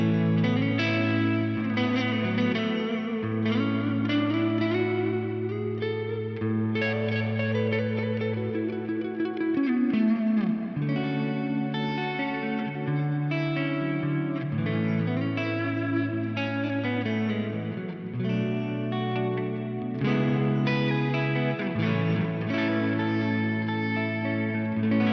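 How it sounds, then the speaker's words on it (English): Electric guitar played through the Specular Reverb algorithm of a GFI Specular Tempus pedal, sustained chords and melodic lines washed in lush, wide reverb with chorus-like shimmer, steady and continuous with no talking. "Beautiful, beautiful, lush reverb on that."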